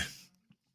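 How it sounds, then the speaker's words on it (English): A single throat clearing, a rough guttural burst close up that fades out, followed by a couple of small clicks. "Hang on a second, I gotta clear my throat."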